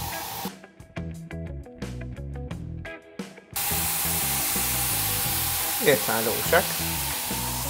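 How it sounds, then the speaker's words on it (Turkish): Watermelon slices sizzle in a hot pan for grilled watermelon salad, a loud steady frying hiss rising after a quieter stretch of clatter, with a brief spoken remark over it. "Yavaş yavaş bütün karpuzları artık cozurdamaya başladı."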